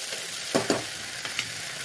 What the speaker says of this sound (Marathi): आता आपले पुढचे टोमॅटो थोडा सगळं टाकायचं आणि आता हे सगळं वापस नीट फ्राय करून घ्यायचं एकदम नीट